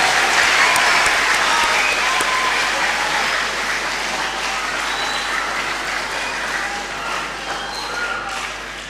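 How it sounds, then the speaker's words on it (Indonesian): A church congregation at a confirmation Mass applauds its bishop on his fortieth anniversary of priesthood, a broad, sustained wash of clapping that holds evenly and tapers slightly toward the end. "Mari kita beri tepuk tangan untuk Bapak Uskup kita."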